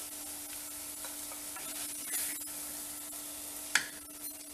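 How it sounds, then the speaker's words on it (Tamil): A vegetable masala filling for kozhukattai is stirred and sautéed in a pan over a flame, giving a steady soft scraping with a low sizzle throughout and one sharper utensil knock near the end. No one speaks. "ஃப்ளேம்லேயே வச்சு நல்லா காயை கிண்டி விட்டு வதக்கி விடுங்க."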